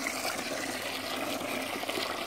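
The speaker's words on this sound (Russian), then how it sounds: "Судя по тому, что журчит в шланге что-то, значит, вода идет." Water gurgles and rushes through a garden hose, a faint, continuous bubbling hiss with no talking.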